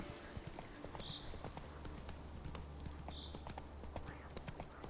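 Hooves of Roach, Geralt's horse in The Witcher 3, clip-clop in a steady walking rhythm on the ground at moderate level, with a faint whinny or chirp and low background game ambience.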